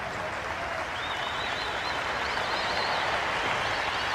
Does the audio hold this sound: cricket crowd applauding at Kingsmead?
yes